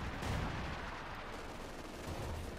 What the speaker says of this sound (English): Pack Archer lands a decent hit there with its 75mm cannon